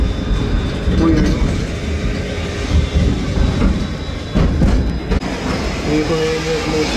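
A passenger train on an Uzbekistan railway rolls toward a station, with a loud continuous rumble and rattling from inside the carriage, occasional clanks and a brief squeal near the end.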